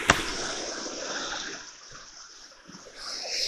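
Water flowing outdoors beside a rock, heard as a steady, moderately loud broadband rush after a sharp knock at the start. The rush dips slightly midway, then swells again.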